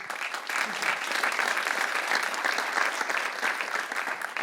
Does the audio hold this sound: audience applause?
yes